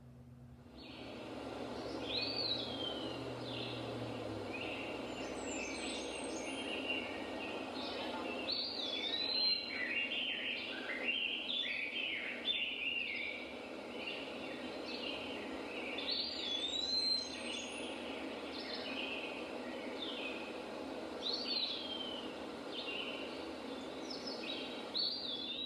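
A bird sends out quick, high chirps again and again over a steady hum of background noise, moderately faint and with no voices.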